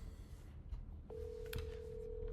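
A phone places a call: a few quick dialing beeps, then a steady electronic tone that holds continuously, heard close over a low background hum with no one speaking.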